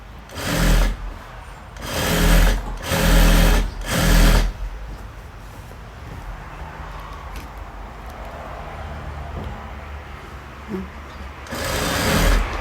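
A sewing machine stitches a folded hem about one centimetre wide on a Karen-style blouse, running in four close, loud bursts of rapid stitching, then pausing through a quiet stretch before one more burst at the end.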